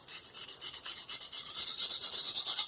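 Knife blade taking light, pressure-free passes across a budget sharpening stone to remove a burr, a close, soft rhythmic rasping of repeated strokes with no talking.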